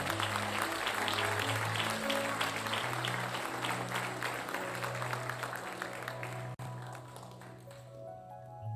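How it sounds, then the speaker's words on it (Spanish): A church congregation applauds over sustained organ or keyboard chords, the clapping a dense, moderately quiet patter that thins out toward the end as the music carries on. "suelte fuerte ese aplauso."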